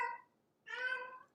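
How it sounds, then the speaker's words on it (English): A female cat in heat yowls twice in the background, one short cry and then a longer, drawn-out wail after a brief silence, fairly faint, with no talking. "You can hear the cat in the background."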